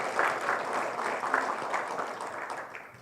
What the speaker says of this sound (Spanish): Vamos a dar un aplauso general a todos nuestros invitados